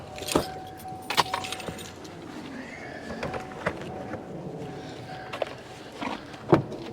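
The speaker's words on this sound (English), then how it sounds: "Okay, we got those keys." A bunch of keys jingles in hand at an RV transport yard, with scattered bright metallic clinks and rattles spread across several seconds, close and clear over faint outdoor background noise.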